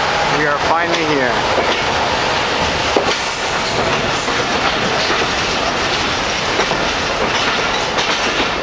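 A train rolls into Khulna station at the end of a Dhaka-Khulna journey, with continuous loud rumbling, clattering wheels and a brief squeal, while people talk over the noise.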